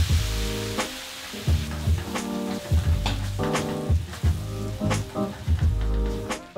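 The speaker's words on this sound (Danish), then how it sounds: "Så kører vi lidt god hvidvin i." White wine pours into a hot pan of tiger prawn risotto and sizzles, with loud bubbling frying bursts and clattering over low background noise.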